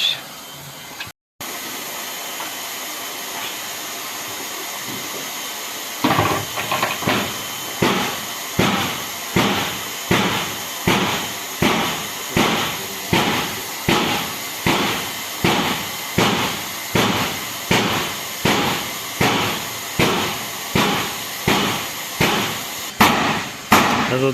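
Regular metallic hammer blows on a van door ring out one after another at a steady pace over a constant background hiss, after a quieter opening.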